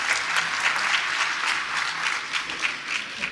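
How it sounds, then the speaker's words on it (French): A crowd at the closing ceremony of a holiday camp claps steadily and loudly throughout, a dense continuous patter of many hands with no voices on top. "On applaudit vraiment pour lui, on le remercie."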